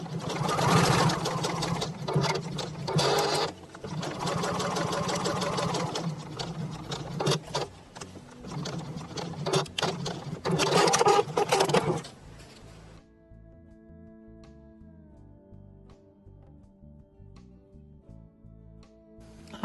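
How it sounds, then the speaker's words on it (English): A sewing machine top stitches felt pieces, running in loud, close bursts of rapid mechanical clatter with brief pauses, then stopping about two-thirds through and leaving a quiet electrical hum. "now I'm just going to go and to top stitch that all the way around, just 1/8 of an inch down on both of those"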